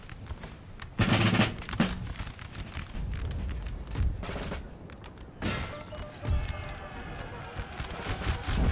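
Musket volleys from massed infantry regiments in Napoleon: Total War, with grenadiers waiting nearby: repeated crackling rolls of fire and booming reports spread across several seconds, layered over the battle's constant din.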